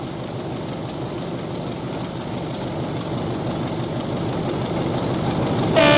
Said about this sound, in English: The train is now seen passing through the platform.